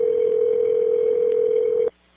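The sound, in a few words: telephone tone of an automated phone call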